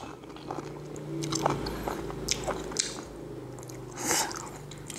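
Close, wet biting and chewing of a large mango, with juicy squishes and soft crunches in an irregular rhythm, growing louder in a few bursts and ending in a sharp bite.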